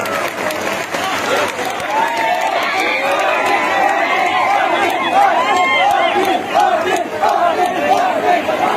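A large crowd at a Maratha rally in Maharashtra claps steadily and cheers to welcome a leader, a dense, sustained wash of applause with shouts mixed in, loud and continuous throughout.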